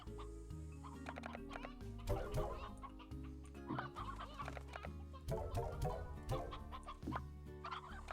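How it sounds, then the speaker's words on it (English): An elder hen from the game Slime Rancher clucks repeatedly over a steady musical soundtrack, with short, fairly close bursts of fowl-like clucking throughout. "Yep, that's an elder hen."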